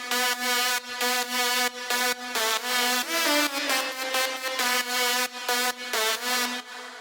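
A buzzy synth melody layer from an Indian trance track made in FL Studio, a bright sawtooth-like line with gliding notes, chopped into rhythmic gated pulses, loud and alone.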